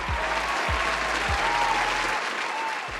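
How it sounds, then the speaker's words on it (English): A sustained round of crowd applause, steady and fairly loud, with a few low thumps underneath and faint voices buried in the clapping. "And give him a round of applause."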